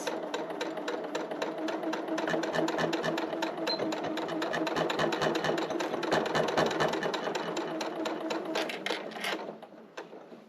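A sewing machine stitches back and forth over the hanger tab of a two-flap fabric coin purse, a steady rapid mechanical whirr and clatter running close and loud for about nine seconds before stopping, with no talk.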